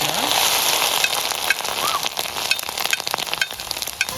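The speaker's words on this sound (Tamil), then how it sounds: "அடுத்து வந்து மஷ்ரூம் வந்து பொரிக்கிறா." Oil sizzles and crackles steadily as mushrooms deep-fry close up, with occasional pops and stirring noises.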